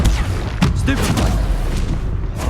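Stupefy spell cast in Hogwarts Legacy, a sharp booming impact followed by a few thuds and crackling game effects, loud and close over a rumbling backdrop.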